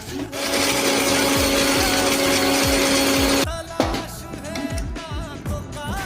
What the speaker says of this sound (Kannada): ಕೊಬ್ಬರಿನ ನುಣ್ಣಗೆ ರುಬ್ಕೋಬೇಕು